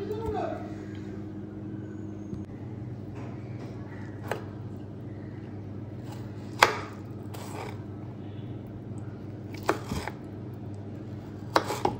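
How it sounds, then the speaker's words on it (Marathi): Garlic, chili and coriander chopped with a knife on a board in a home kitchen, a few sharp irregular knife taps over a steady low background hum. "लसूण बारीक करू, थोडासा मिरची कट करून घेऊ आणि कोथिंबीर कट करून घेऊ"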